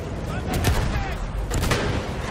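Battlefield 1 campaign gunfire: loud, close bursts of shots and booms from the World War I shooter, with a couple of sharper blasts standing out over a constant rumbling battle din.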